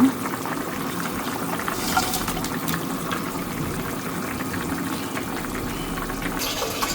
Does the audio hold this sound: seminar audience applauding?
no